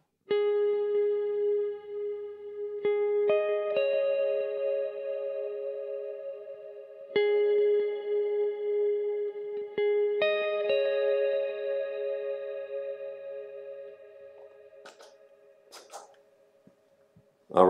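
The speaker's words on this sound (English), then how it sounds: "we turn on the dual delay with that reverb and it sounds like this." Sustained electric guitar chords with dual delay and reverb ring out with long echoing repeats and a wash of reverb, shifting between a few held notes before trailing off near the end.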